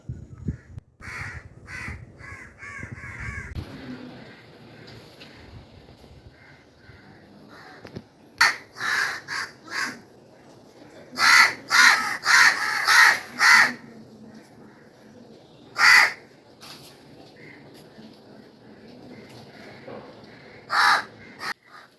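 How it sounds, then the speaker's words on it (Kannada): Crows cawing, harsh calls coming in clusters and single caws with quiet gaps between them. A few bursts are loud and close, others fainter. "ಕಾಗೆಗಳು ಹಾಗೆ ಅಲ್ವಾ ಒಬ್ಬರೇ ತಿನ್ನಲ್ಲ ಬಳಗ ಎಲ್ಲ ಕರೀತಾ ಇದೆ ನೋಡಿ"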